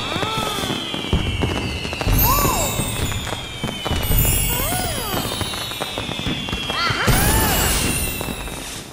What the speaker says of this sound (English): They watched the fireworks explode high up above them